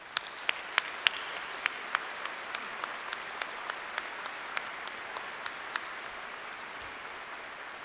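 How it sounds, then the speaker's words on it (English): A crowd at a military ROTC commissioning ceremony applauds steadily, a dense wash of clapping with a few sharper individual claps standing out near the start, moderately distant and filling the room without any talk. "let's give them an applause and appreciation for their distinctive service"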